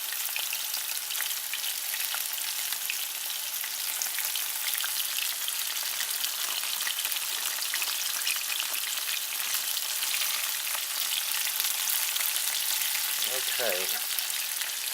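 Okra frying in hot oil makes a dense, even sizzle that crackles steadily throughout, close by, with a faint clink near the end.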